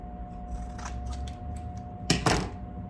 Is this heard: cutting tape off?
yes